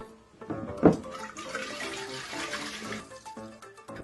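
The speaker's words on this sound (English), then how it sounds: "What happens when you pour oil into water?" Oil splashes and trickles into water, with a brief louder glug near the start, then a steady bubbling pour that fades toward the end.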